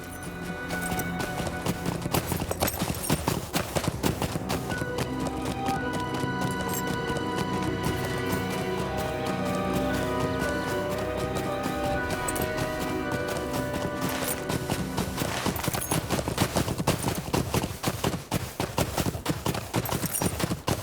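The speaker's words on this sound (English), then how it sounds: "The cadence of the hoofs goes much faster than without the buff." Rapid, steady clip-clop of horse hooves galloping in the Lord of the Rings Online game, a dense, loud rhythm carrying on throughout with no talk over it.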